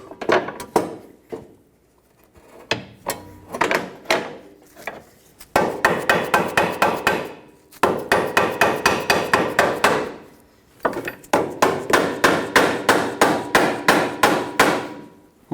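Hammer blows tapping a new front lower control arm bolt into place on a 2012–2019 Fiat 500, sharp metallic strikes in rapid repeated bursts with short pauses between runs, loud and close.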